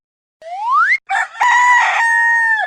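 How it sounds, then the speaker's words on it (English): A rooster crows loudly and close by, a rising call followed by a long sustained cry, alone with no voices, amid a sequence of farm animal sounds. "rooster"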